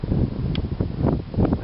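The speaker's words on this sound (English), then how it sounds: "it is a bit windy." Gusty wind blows through open woodland, buffeting the microphone with loud rumbling pulses and rustling leaves in uneven surges.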